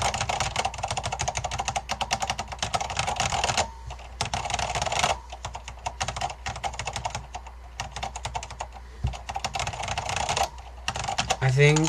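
Alps switches on a restored Focus FK-2001 keyboard clack in fast, continuous bursts of typing close to the microphone, with a brief lull near the middle before the rapid keystrokes resume.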